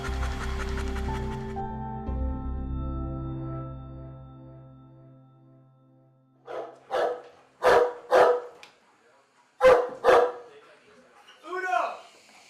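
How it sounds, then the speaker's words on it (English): A military working dog with a law enforcement canine handler lets out a series of sharp, close barks and yips, each burst separated by short pauses, after a stretch of music fades out. "I'm a canine handler with 3rd Law Enforcement, and this is my dog, Dasty."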